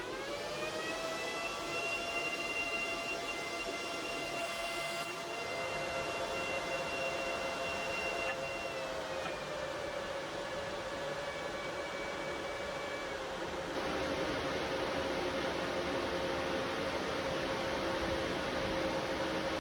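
A crypto mining rig powering up, its fans whining into steady tonal hums and whooshing airflow, the pitch shifting and settling over the run as the machine spins up, loud and constant with no talking.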